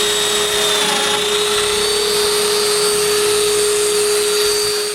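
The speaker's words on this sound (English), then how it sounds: "I make domino holes on the front of all the web frames." A domino joiner cuts holes into wooden web frames for a night stand, a loud, steady, close whine with a constant high tone and rushing dust-extraction noise running without pause.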